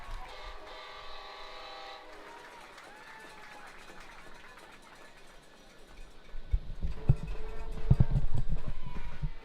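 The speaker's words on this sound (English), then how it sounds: "one of the most annoying sounds in football is the air horn that some teams will play" A long, loud air horn blares at a high school football game between Anahuac and Mart, sustained for a couple of seconds over crowd noise that swells into heavy rumbling and cheering.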